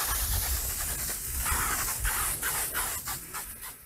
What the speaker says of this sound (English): I'm just gonna kind of run around the yard and just spray it really thin till it's gone.